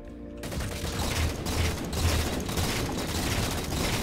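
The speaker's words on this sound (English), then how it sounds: "I hear gunshots." Rapid bursts of video game gunfire crackle continuously, dense and mechanical, with rattling clicks mixed in and no talking.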